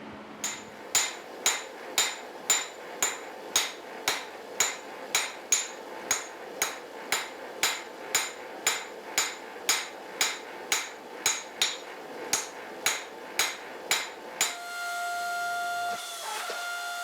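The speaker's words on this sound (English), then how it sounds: "To forge out all the leaves, I'm basically just kind of roughing it out at the anvil" A hammer strikes steel leaves on an anvil while they are forged for a steel tree sculpture, giving about two dozen loud, evenly paced ringing blows. A brief grinding whir follows at the end.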